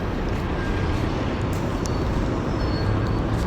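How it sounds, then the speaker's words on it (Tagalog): Steady street traffic at night in Kuwait, around 11:20 pm, a continuous broadband rumble of passing cars with no distinct single pass-by, heard from the roadside while walking. "ang mga sasakyan"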